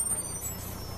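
A 7B city bus pulls in and stops, a faint low engine rumble with a brief hiss of air brakes, heard from a distance with no talking.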